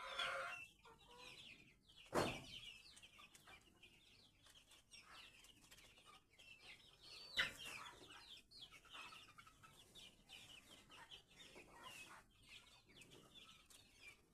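Chickens and young chicks cluck and peep around a farm coop, soft steady clucking at a moderate distance with occasional louder squawks and wing flaps, no talking.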